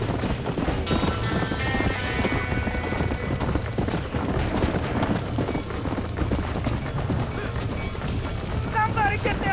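Horse hooves clip-clop at a gallop through a dense, busy Red Dead Redemption scene at a burning barn, with occasional whinnies and shouting voices mixed in.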